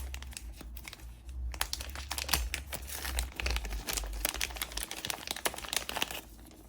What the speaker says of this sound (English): Just look at how easy it is to open a bag or package with a pocket knife.